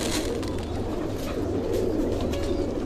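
A flock of over three thousand rescued pigeons cooing densely and continuously, with soft overlapping calls and a steady rustle throughout.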